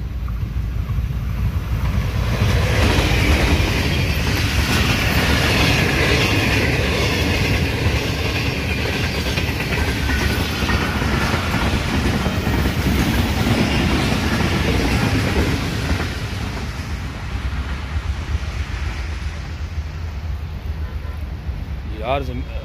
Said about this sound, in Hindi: ये देखो ट्रेन आ रही।